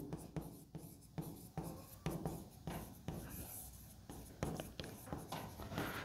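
Chalk or marker writes on a board during a physics lesson on reflected rays, with a series of close scratchy strokes and taps in irregular bursts and no talking.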